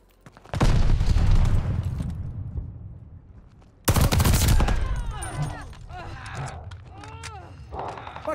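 Grenade detonations in the shooter Call of Duty: Vanguard, two loud sharp blasts a few seconds apart with rumbling decay, followed by scattered gunfire and a voice calling out in the background.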